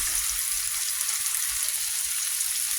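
Tomato and onion cooking lightly in a pan ahead of scrambled eggs, with a loud, close, unbroken sizzle and hiss throughout and no one talking.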